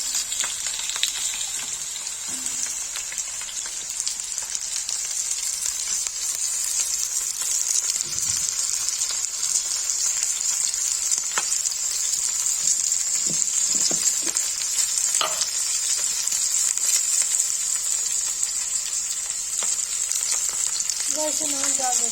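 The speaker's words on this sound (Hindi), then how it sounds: "गाइस देखिए क्या तेल हो गया, हम नदरू फ्राई करेंगे।" Kashmiri nadru (lotus stem) frying in hot oil for palak nadir, giving a steady, close, continuous sizzle and crackle that holds at an even level throughout, with no talking.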